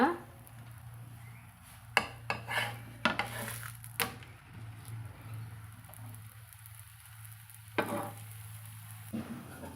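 Aloo paratha frying in a little oil on a hot pan, a low steady sizzle broken by several sharp clinks and scrapes of a spatula as it is turned.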